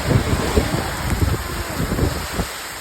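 Heavy rain and gusting wind during a flood in Lucena City, a dense continuous wash of noise with rough wind buffeting on the microphone, steady and close throughout.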